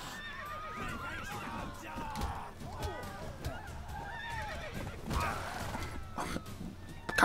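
In The Witcher 3 game, a horse whinnies and neighs repeatedly among clip-clopping hooves and creaking, with scuffles and a voice speaking at moderate level over the scene.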